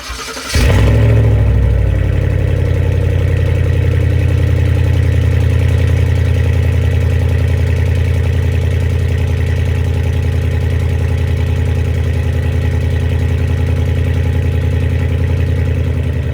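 An engine fitted with an aftermarket exhaust cranks briefly and catches, then idles loudly and steadily with a deep, throbbing burble for the rest of the time, close by.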